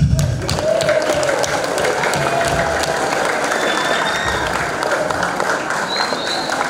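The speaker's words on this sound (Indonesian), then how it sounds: "Tepuk tangan." Sustained applause from a lecture audience at a modern Islamic boarding school, steady dense clapping filling the whole stretch with a few faint voices mixed in.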